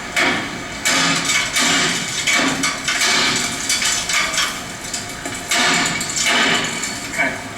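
A 3-pound hammer strikes rusty fire escape treads in a series of loud, sharp metallic bangs in irregular clusters, with a person talking between some of the blows.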